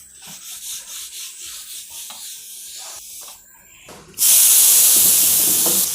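Soft intermittent rustling, then a sudden loud, steady hiss of steam bursting from a pressure cooker and continuing strongly to the end.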